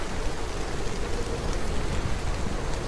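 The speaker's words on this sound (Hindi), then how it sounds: "बस ऐसे ही मुझे इस तेज बारिश और तूफान से खुद को बचाना होगा।" Heavy rain from a storm pours down in a dense, continuous roar, loud and steady with no pauses and no voices.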